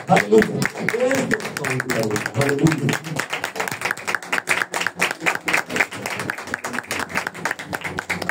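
A congregation at a church service claps in a quick, steady rhythm. The clapping starts after a few seconds of a voice calling out and carries on, fairly close and loud, to the end.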